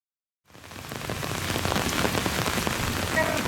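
Heavy rain pours down at the end of a group trail ride, a dense, steady roaring hiss that starts abruptly and stays loud and close throughout, with no talking.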